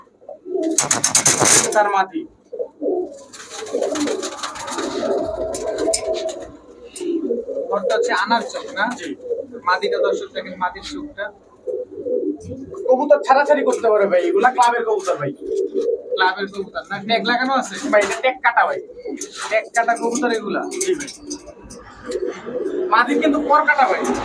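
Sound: male Mili Racer pigeon

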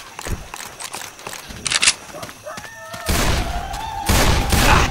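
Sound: gunfire in video game Left 4 Dead 2

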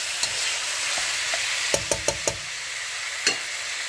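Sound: meat being stir-fried until lightly brown

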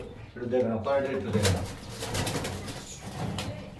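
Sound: pigeons cooing

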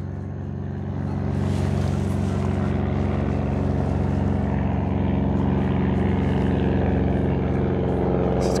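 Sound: light aircraft flying overhead

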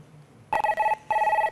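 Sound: telephone ringing while a call connects

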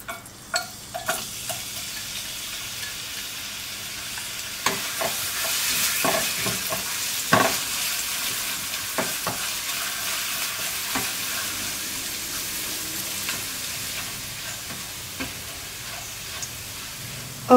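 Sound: garlic frying in coconut oil

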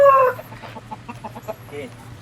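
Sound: Thai native rooster

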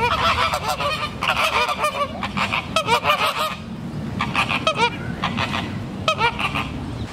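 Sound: Caribbean flamingo calls at a zoo

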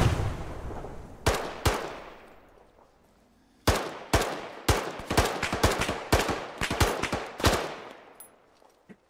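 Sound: gunfire in the video game Arma Antistasi

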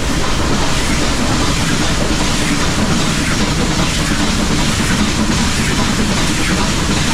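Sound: Nilgiri Mountain Railway toy train to Ooty running

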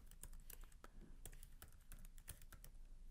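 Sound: typing a Java run command on a computer keyboard

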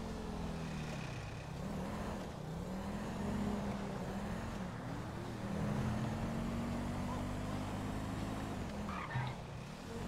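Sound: car driving in video game Grand Theft Auto Online

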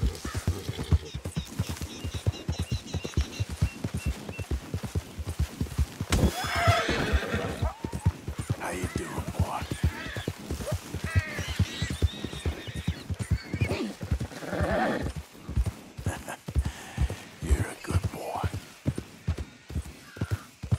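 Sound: horse galloping in video game Red Dead Redemption 2

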